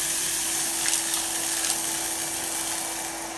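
A Henry cordless vacuum cleaner runs on setting 1 across a floor, a steady high whine with a constant hum, close and unbroken, with slight shifts as the nozzle moves.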